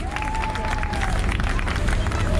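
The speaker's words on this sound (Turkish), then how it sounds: "Kuvvetli bir alkış alabilir miyiz?" Boat tour passengers on a sightseeing trip off Alanya, Antalya, clapping in a steady crowd wash, with cheering and a whistle-like tone over a low rumble, continuous and fairly loud.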